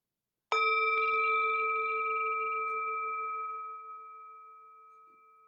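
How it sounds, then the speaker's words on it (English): A single meditation bell struck once, a clear ringing tone that sustains and slowly fades over several seconds in an otherwise silent room. "The sound of the beautiful bell returns us to our true home."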